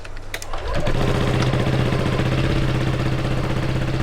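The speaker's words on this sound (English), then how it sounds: "We're going to go ahead and start the bike." A Honda ADV 150 scooter engine cranks and catches, then settles into a steady, close, even idle that runs on alone.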